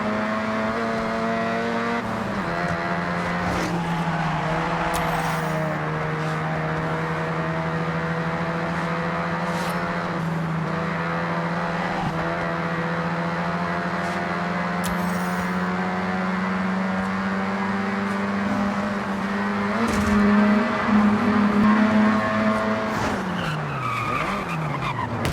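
A fully modded Mazda RX-7 in the Forza Horizon 6 racing game drones with a sustained engine note and long tire squeals through drifts, loud and continuous, rising in pitch near the end.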